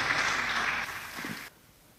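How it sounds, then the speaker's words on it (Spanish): An audience applauds a speaker being introduced at a talk, a short, soft spell of clapping that thins and cuts off abruptly after about a second and a half. "dejar entonces con ustedes a Rodrigo Torres, un aplauso para él y su exposición"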